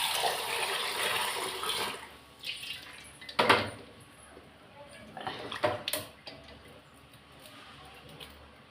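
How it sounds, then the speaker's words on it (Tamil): Hot water poured out of a cooking pot after boiling eggs, a steady near pour fading out with a few metallic clanks of the pan, while someone talks over it. "தண்ணி கீழே ஊற்றிட்டு வரேன்"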